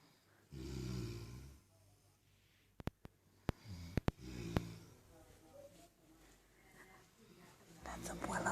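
Children asleep on a Thanksgiving afternoon snore in slow, low rumbling breaths, several spaced bursts in a quiet room, with a soft whispering voice between them.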